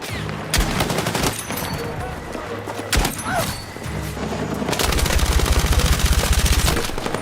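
Rapid gunfire in the shooter game Battlefield 6, with bursts of automatic fire and single loud shots, a sharp boom, then a sustained rattling automatic burst near the end, with a voice briefly heard.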